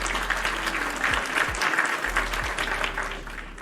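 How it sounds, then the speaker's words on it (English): A round of applause during a livestream, a continuous, fairly loud burst of clapping filling a few seconds, with a low steady hum underneath. "We get a round of applause there."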